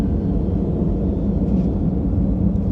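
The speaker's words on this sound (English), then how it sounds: "I can't even hear myself think this jet is so loud." A loud military jet hovers nearby over a Greek harbor during docking, its engine giving a steady, unbroken low roar that fills the air at constant strength with no rise or fall.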